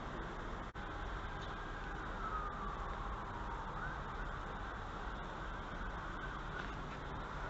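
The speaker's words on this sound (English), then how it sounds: "You can hear the siren now." A distant siren wails with a slowly sliding pitch over steady background traffic noise.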